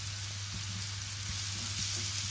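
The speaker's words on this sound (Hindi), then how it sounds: "तो अब इसे भून लें" Dal frying in a pan with chopped garlic and ginger, giving a steady, even sizzle with a few faint stirring touches and a low hum underneath, no talking.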